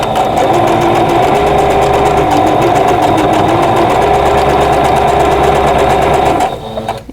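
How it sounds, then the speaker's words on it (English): A sewing machine chain-pieces quilt seams, a loud close rapid mechanical whirring and ticking that runs steadily for several seconds before stopping abruptly. "I'm going to butt these seams together and then sew down through here"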